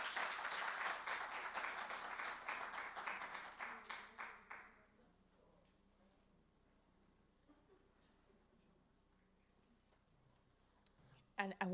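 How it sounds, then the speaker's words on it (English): Audience applause at a World Poetry Day event in Jamaica, a dense burst of clapping that fades out over about five seconds, followed by a quiet room and a few scattered claps near the end. "I want another round of applause"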